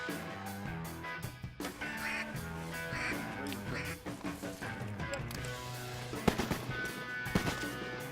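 Ducks, likely spoonbills, quack and call in a dense overlapping chorus over a duck-hunting marsh in Texas, with sharp louder sounds breaking through near the end.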